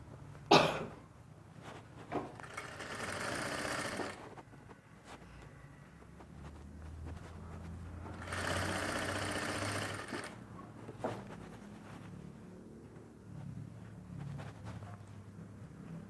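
Sewing machine stitching a winter dress, running in two close bursts of rapid whirring separated by quieter stretches, with a sharp clack at the start and faint handling noises.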